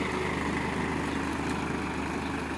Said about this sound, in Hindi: और क्या बढ़िया चल रहा है ट्रैक्टर को